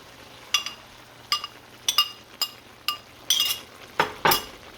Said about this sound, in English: stir that good